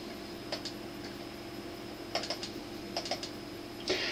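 A computer mouse clicked in short pairs and clusters while copying photos from an iPad to a computer, sharp faint clicks over a steady hum, sounding close to keyboard taps.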